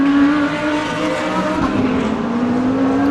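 Race cars at Dezzi Raceway crossing the finish line in close formation during a live race, a loud sustained engine whine holding a steady pitch with slight rises as they pass, no voices over it.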